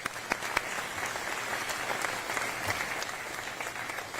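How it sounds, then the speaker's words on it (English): An audience at a veterans ceremony gives a sustained round of applause, a dense and even patter of many hands at a somewhat distant, moderate level, with a few sharper claps near the start. "Let's give them another round of applause"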